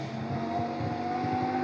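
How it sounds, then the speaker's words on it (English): A Lamborghini GT race car of almost 600 horsepower, car 76, drones steadily at high revs through Monza's Parabolica in qualifying. The engine note is loud, sustained and even throughout, with no clear change in pitch. "Ria Lucas locks up into the Michele Alboreto Parabolica, tries to keep the car on the circuit"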